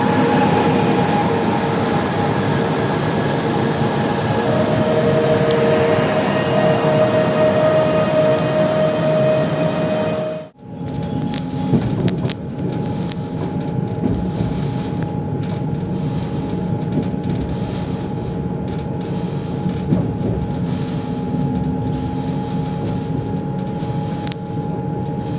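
Passenger train on a railway line in Silesia, running between Rybnik and back, rumbles steadily past with broadband rolling noise and a sustained tonal whine, briefly dropping away before the roar resumes at close range.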